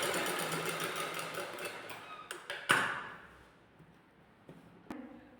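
Sewing machine running steadily on net fabric for a blouse, a dense continuous whir that fades toward the end, with a few sharp clicks and taps as the stitching stops and the fabric is adjusted.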